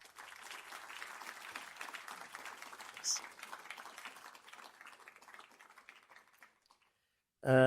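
A university lecture audience applauds to welcome the speaker at the 2025 Warren Hogan Memorial Lecture. Dense clapping continues for about six seconds, fades to silence, and then a voice begins abruptly.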